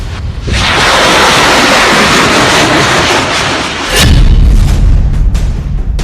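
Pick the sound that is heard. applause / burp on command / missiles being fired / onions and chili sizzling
missiles being fired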